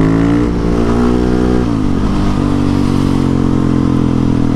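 Husqvarna 701 supermoto single-cylinder engine revving hard while lifting into a wheelie, a loud close steady drone that dips briefly as the rider shifts gears, then climbs again.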